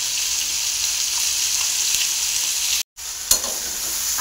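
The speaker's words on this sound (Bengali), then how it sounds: "মাছ ভাজা বসিয়ে দিয়েছি" Small mourala fish frying in oil in a pan, a steady bright sizzle close by with a brief cut in the sound and a sharp clack of a utensil just after, no voices.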